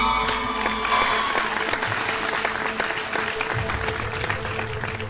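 A live audience at a televised singing competition claps loudly and continuously through the whole stretch, a dense, even wash of applause with some crowd noise mixed in.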